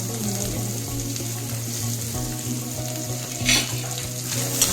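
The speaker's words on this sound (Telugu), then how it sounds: "జస్ట్ ప్యాన్ ఫ్రై చేస్తాను" Coconut pieces pan-fried in oil, a continuous close crackling sizzle with a brief scrape of stirring, over a steady low hum.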